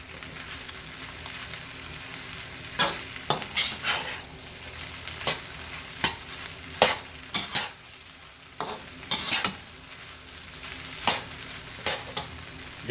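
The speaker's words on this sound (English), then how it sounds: "Make sure your vegetables are cooked thoroughly." Vegetables and peas stir-frying in a pan, a soft continuous sizzle broken by repeated sharp scrapes and clatters of a utensil against the pan, close and without talk.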